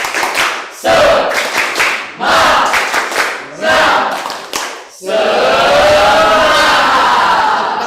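Standing group clapping loudly in four rhythmic bursts separated by short pauses, each with shouted voices, then breaking into sustained cheering and clapping.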